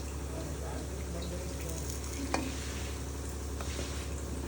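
Chicken tempering in hot oil in a pot, giving a steady, close sizzle throughout with a brief clatter near the middle and no talking over it.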